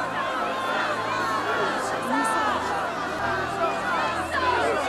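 A large crowd in a Game of Thrones scene murmurs and calls out in a dense, continuous hubbub, with voices and cheers blending together at a steady, moderately loud level.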